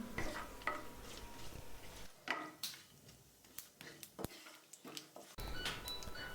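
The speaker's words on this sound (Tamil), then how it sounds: "இதை வந்து 1 நிமிஷம் போல் நல்லா இந்த எண்ணெயில் வதக்கிக்கோங்க." Whole spices sautéing in oil in a pan for vegetable pulao: quiet, intermittent sizzle broken by a series of sharp spoon clicks and pan knocks, fairly faint with no talking.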